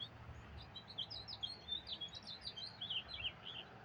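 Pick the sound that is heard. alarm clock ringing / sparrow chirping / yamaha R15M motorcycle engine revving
sparrow chirping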